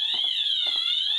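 A store's fire alarm blares a steady, piercing electronic tone, loud and continuous, with a few low thuds underneath.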